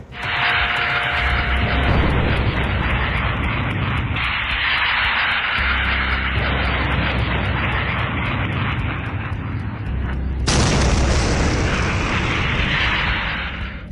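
A Russian Shahed attack drone flying, a loud, continuous buzzing engine drone with a harsh whine that swells sharply toward the end, close and alone without talk.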